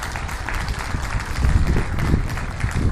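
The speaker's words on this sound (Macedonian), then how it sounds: "Ве моламе да аплауз за нив." Audience applause for Macedonian award winners at an Australian Macedonian spring festival: steady, fairly close clapping from a crowd, sustained throughout without a break.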